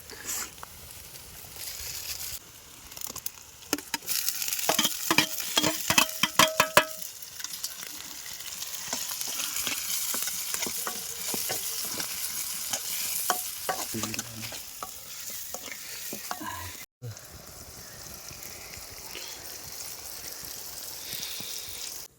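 Faran, a Himalayan dried herb, dropped into hot oil crackles and sizzles sharply at first, then settles into a steady close frying hiss with occasional stirring, outdoors in a forest setting.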